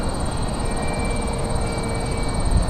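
Steady whine of an RC MiG-15 model jet flying on a windy day, a continuous engine tone with a thin high pitch over rushing wind noise, fairly close and unbroken.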